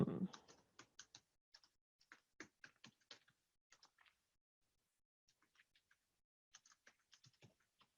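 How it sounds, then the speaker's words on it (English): Typing on a computer keyboard, sparse clusters of light key clicks with irregular pauses between bursts, close but quiet, with no voices. "And then you get to put up with my miserable typing."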